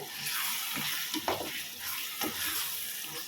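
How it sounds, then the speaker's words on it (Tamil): Chicken gravy for a quick chicken thokku bubbling and sizzling steadily in a pan while being stirred, with soft scraping accents over a continuous hiss. "கிரேவி பாருங்கள் நல்லா அருமையாக கொதிச்சு விட்டுருக்கு"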